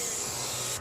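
Steady hissing spray, loud and continuous for under a second before cutting off, close by in an Australian backyard chicken run with hens.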